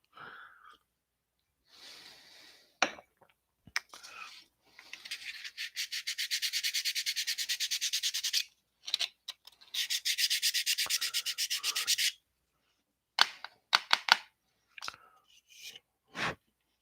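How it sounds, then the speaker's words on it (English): Metal air intake grilles on an F unit model locomotive are sanded by hand. The rapid back-and-forth rasping strokes come close up in several bursts separated by short pauses, with no talking. "you got to be careful when you're sanding the sides in here, because you can sand all the way through"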